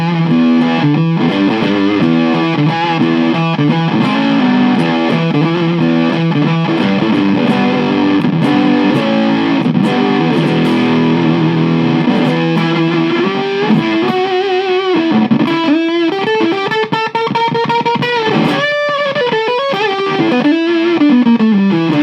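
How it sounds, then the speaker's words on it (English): An electric guitar plays through a fuzz pedal with a gate and filter, giving thick, buzzy, distorted sustained tones and bending notes that fill the clip continuously with no talking. "You can get some really unique fuzz tones out of this."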